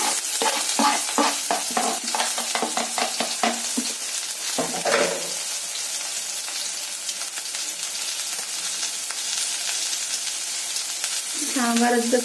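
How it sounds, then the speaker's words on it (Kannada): Onions frying in a pan for a vegetable curry, a loud steady sizzle throughout with brief clattering stirs near the start and again at the end, no talk. "ಈ ಪಲ್ಯದಕ್ಕೆ ಏನೈತೆ ಈರುಳ್ಳಿ ಹಾಕ್ತೀನಿ"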